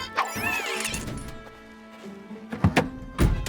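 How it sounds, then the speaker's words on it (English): A cartoon truck's starter motor breaks with a clunky mechanical sputter, then a series of sharp knocks and thunks near the end, close and fairly loud. "That sound means Tilly's starter motor has broken."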